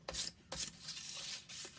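Sandpaper rasps over a small Dollar Tree craft piece coated in Mod Podge, in about four short back-and-forth strokes that are close and soft with brief pauses between them.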